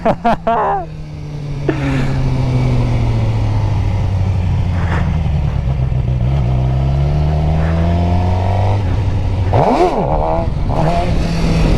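A stock Suzuki GSX-R 600 sport bike during wheelie practice: a sharp opening blip, then a long, steady, loud engine drone that shifts pitch as the throttle changes, with a quick rising rev near the end, heard close up.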